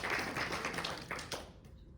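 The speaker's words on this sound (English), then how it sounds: "let's please give them a big round of applause" Applause for the two hosts at a recital, a dense wash of clapping from the audience that stays steady and close for most of the moment, then thins out and fades near the end.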